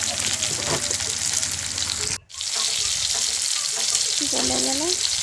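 Tomatoes sizzle and fry in a pan while being stirred, a loud, constant hissing crackle with brief scraping stirs and one short break in the sound.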